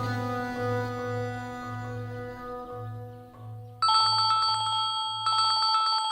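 A telephone rings in a home in a rapid, repeated electronic pattern, with a low pulsing tone beneath at first and a brighter, louder ring taking over partway through.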